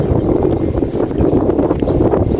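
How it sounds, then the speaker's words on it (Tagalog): Strong wind buffets the microphone on a road trip, a steady loud rumbling roar with gusty fluctuations throughout and no talk. "Malakas lang ang hangin ngayon"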